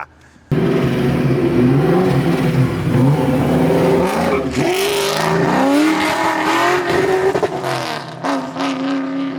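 A 917 hp Foxbody Mustang engine revs hard and loud as the car pulls away on a drive, its pitch climbing and dropping through repeated surges with a steady engine drone between them.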